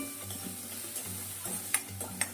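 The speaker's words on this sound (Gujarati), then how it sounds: "પહેલાં આપણે ડુંગળી લઈ લીધી છે ફૂલ ગેસે ફટાફટ આ રીતે કરીશું ડુંગળીને" Chopped onion stirred and sautéed in oil in a pan over a high gas flame for masala macaroni, with a steady sizzle under irregular scraping strokes and a few sharp spatula clinks near the end.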